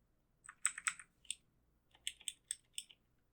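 Close, quiet clatter of a computer keyboard being typed on, coming in two short bursts of quick keystrokes separated by a brief pause.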